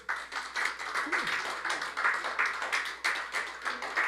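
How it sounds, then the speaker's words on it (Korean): An audience at a university lecture claps in a rhythmic, fairly faint patter of many hands, steady throughout without a break. "박수 한번 보내주십시오."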